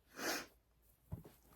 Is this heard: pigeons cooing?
no